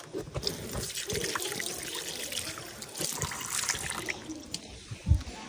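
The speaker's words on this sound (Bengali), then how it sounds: "আর এখানে আমি হাত ধুচ্ছি" Hands are washed under a running tap at a homestay in Sittong near Darjeeling, with steady splashing and trickling water close by and a brief louder splash near the end.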